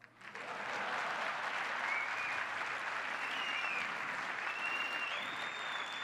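An audience applauds steadily, a dense wash of clapping from many hands that swells quickly and holds at an even level, with faint whistles.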